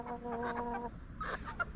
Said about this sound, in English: And these are the meat chickens.